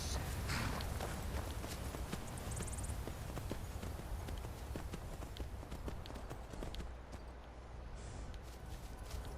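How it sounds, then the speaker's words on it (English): Horse hooves clip-clopping in the video game Skyrim, a steady run of close, even steps over a constant game ambience, with no other voices. "It's my horse"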